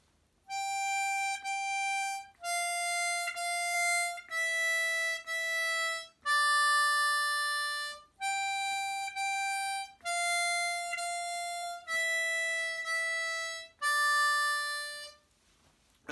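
A harmonica plays a slow melody from Twinkle Twinkle Little Star, eight clear, sustained notes, each separated by a short breath, bright and close.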